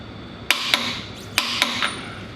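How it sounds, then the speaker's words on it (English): A torque wrench tightens the hub bearing on a 2002 Ford Explorer, giving several sharp metallic clicks in two quick pairs, close and crisp against a quiet shop background. "Go through and torque this down."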